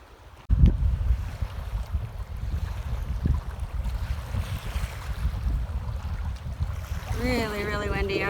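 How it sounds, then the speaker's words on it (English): Strong wind buffets the microphone while waves slosh and lap nearby on Manitou Lake in Algonquin Park, a continuous rough roar with a brief thump near the start. "Really, really windy out here on Manitou."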